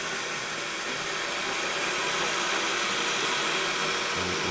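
A steady, broad roaring hiss, like a gas burner flame at full blast, holds evenly throughout with no voices.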